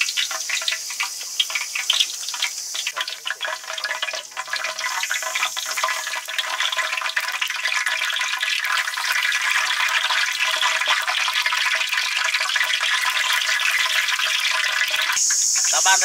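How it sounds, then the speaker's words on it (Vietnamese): Hot liquid being ladled over a pork knuckle, a continuous hissing, splashing sizzle with a rapid crackling texture, loud and close throughout, with no speech. "Nó phải là ngồi xối chân giò lên nè."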